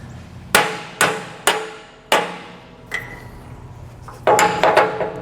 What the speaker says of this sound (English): we'll take our hammer and we're going to hammer that bolt out